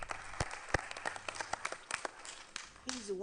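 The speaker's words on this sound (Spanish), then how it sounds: "Aplausos." Scattered applause at a county commissioners meeting, sparse, irregular claps from a small group in a room, with some murmuring voices in the background.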